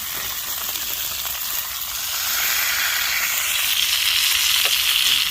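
Flame-grilled burgers sizzle and spit in their own fat on a camping stove, a steady bright crackling hiss that swells a little louder partway through and carries on alone.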